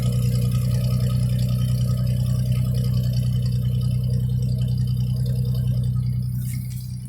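A 1947 Plymouth Deluxe engine idles steadily nearby with a low, even hum and faint rattle, holding constant before easing off at the very end.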